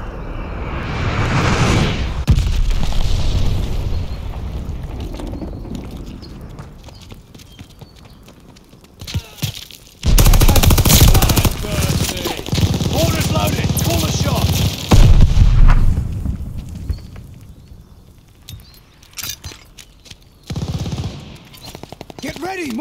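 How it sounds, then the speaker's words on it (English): Call of Duty Vanguard hardcore multiplayer plays loud bursts of gunfire and a heavy mortar barrage, with booming clusters separated by quieter gaps and in-game voices calling out over the fighting. "Mortar barrage is here!"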